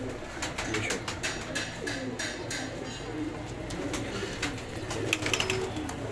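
Neela Kamagar pigeon breeder pair with young chicks cooing close by, soft repeated coos and light wing or shuffling sounds over steady background noise, with someone talking at times.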